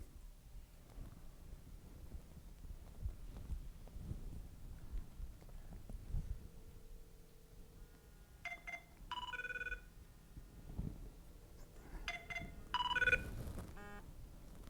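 A phone call rings faintly in short electronic bursts, a couple of repeated ring patterns over quiet outdoor background with light wind.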